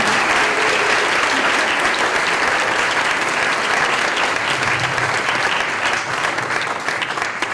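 An audience at Bellingham's International Day of Peace event applauds steadily and loudly, a dense wash of clapping that carries on unbroken throughout.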